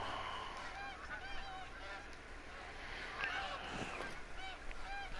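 Geese honking in a hunting game, many overlapping calls from a distant flock, repeated and fairly faint over a low background hum.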